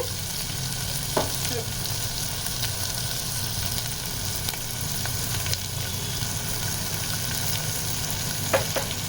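Peas for pea soup are stirred as they fry in a pan, giving a steady, even sizzle with occasional soft scrapes and clinks of the spoon, running close and continuous with no talking.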